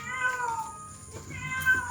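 A cat meows twice, close and fairly loud, with two drawn-out, tonal cries separated by a short pause and no talk.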